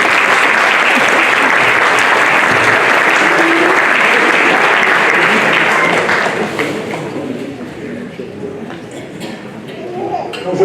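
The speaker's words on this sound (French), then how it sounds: "On peut les applaudir." Audience applause at a mayor's New Year greetings ceremony in Fléville, sustained and fairly loud for about six seconds, then thinning to scattered claps as the room quiets.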